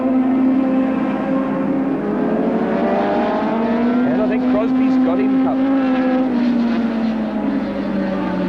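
Big superbikes racing past at a 1980 international road-racing series, a loud, sustained engine howl rising and falling as they pass, under excited race commentary.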